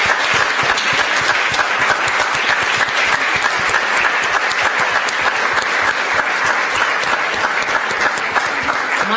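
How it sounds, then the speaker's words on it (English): Sustained, dense audience applause at a talk on the Kurdish women's movement in Amsterdam, loud and steady clapping from many hands throughout with no break. "So a big round of applause for Havin."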